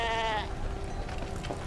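Sheep bleat loudly and close at the start, a wavering cry that fades into a busy rural background with softer animal calls and noise.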